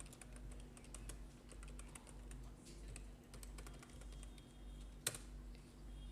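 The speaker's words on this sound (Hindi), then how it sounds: "फर्स्ट हम लोग जो टाइपिंग करना है वो टाइपिंग वगैरह कर लेते हैं पहले।" Keys clicking in a steady, fairly quiet patter on a computer keyboard while text is entered in MS Word, with one sharper keystroke standing out near the end over a low steady hum.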